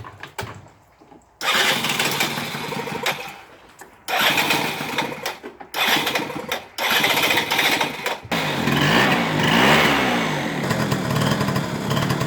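A scooter engine is started after a few failed attempts, with short bursts of starting and cranking noise separated by pauses, then it catches and runs loud and close, revving and buzzing steadily.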